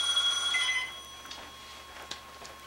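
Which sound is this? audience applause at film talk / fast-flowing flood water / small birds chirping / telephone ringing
telephone ringing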